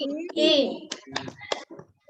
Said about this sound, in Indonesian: Coba kita praktekkan bersama. 1, 2, 3. Tepuk kipas.